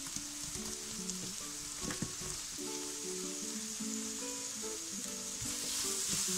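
Fresh mango pieces fry in a creamy chicken curry, a steady close sizzle with repeated scraping and clinking stirs throughout, and no voices.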